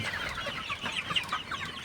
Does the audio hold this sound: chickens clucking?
yes